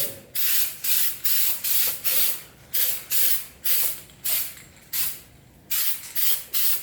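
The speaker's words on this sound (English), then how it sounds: "I'm just gonna hit it with some weldable spray paint" Weldable spray paint hisses onto a metal mount in about a dozen short, regular bursts, each spray loud and close with brief pauses between.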